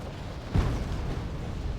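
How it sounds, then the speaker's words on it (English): Airstrike explosion in the Wargame Red Dragon video game: a single deep boom lands just after the start and leaves a low, rumbling rolling tail under steady battlefield noise, with no voices. "Another nice airstrike"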